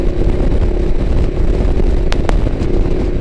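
Ducati Diavel motorcycle in sport mode with the throttle closed, a loud steady engine drone and wind rush heard from the saddle, with two brief sharp clicks near the end.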